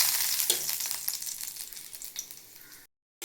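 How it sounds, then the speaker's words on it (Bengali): Garlic frying in oil gives a loud, steady sizzle with bursts of crackle and stirring clatter, close up, easing off before a sudden cut to silence near the end. "আর এই তেলের মধ্যে রসুন দিয়ে দিয়েছি। রসুনগুলো একটু ভাজা ভাজা হোক।"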